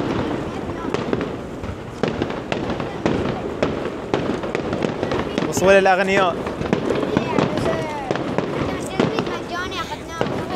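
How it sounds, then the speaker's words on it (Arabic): Repeated firework bursts crackle and bang in rapid succession, with whistling streaks, while people talk and shout over the noise. "احنا جايين سوينا عشان العاب نارية"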